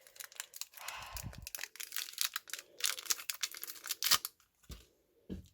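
Scissors snip and crinkle through a plastic package of play dough, a run of close, dry cuts and rustles with short pauses, then a couple of final snips.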